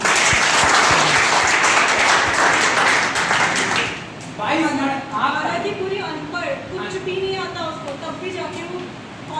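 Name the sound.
applause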